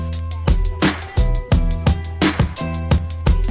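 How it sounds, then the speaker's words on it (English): A heavy electronic beat with deep bass thumps and sharp hits repeating roughly every half second, loud and punchy, with no voices. "You're going to hear a beat drop, and it's going to sound something like this."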